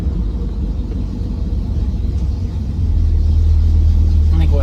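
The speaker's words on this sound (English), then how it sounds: "I think I got a bearing going bad. I don't know if it's an axle bearing or a pinion bearing." Low rumbling drone from a 1968 Pontiac Firebird on the move, a bad axle bearing suspected, with a steady low hum that grows louder and heavier partway through as the car picks up speed; no talk.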